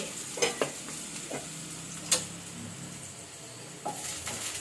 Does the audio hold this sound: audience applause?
no